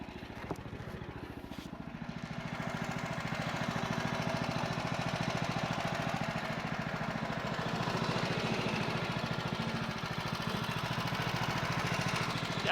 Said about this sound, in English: I'm going to turn the engine off for this.